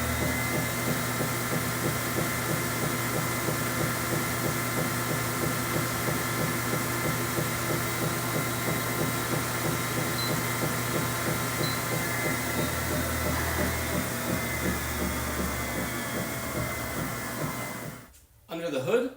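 A THERUN folding incline treadmill with a 3.5 horsepower motor runs with a steady, close whir and a regular pulsing beat, then cuts out and goes quiet just before the end.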